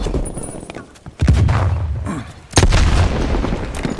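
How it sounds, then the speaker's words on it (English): A frag grenade and gunfire in Call of Duty Black Ops Cold War's Miami map: two heavy explosive booms, about a second apart, each with a rumbling tail, over scattered crackling gunfire. "Incoming lethal grenade."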